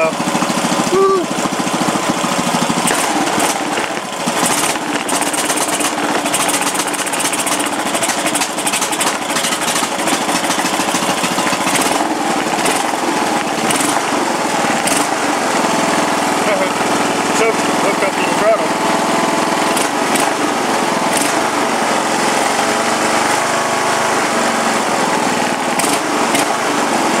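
A Huskee lawn tractor engine runs with the choke partly on, a loud, steady, rough small-engine chatter that continues throughout, with a voice speaking over it.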